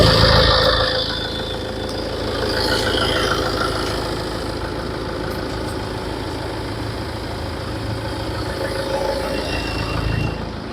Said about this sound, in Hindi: बाहर से सुनते हैं इसका इंजन साउंड कैसा है।